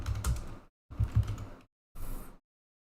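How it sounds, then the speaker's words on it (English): Computer keyboard typing, three short bursts of soft, quick keystrokes separated by brief silences, close and fairly quiet with no talking. "I'll just type it in."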